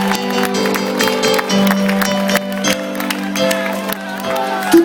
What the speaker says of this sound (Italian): uno può anche applaudirsi da solo.